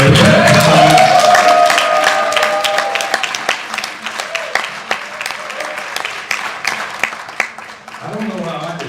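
Loud audience applause and cheering for an executive director at an event, with whoops over dense clapping at first, then the clapping gradually thins out.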